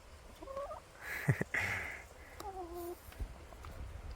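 Chickens make short clucking and gobbling calls in bursts, nearby, in a permaculture food forest in Germany, over a quiet outdoor background with occasional knocks.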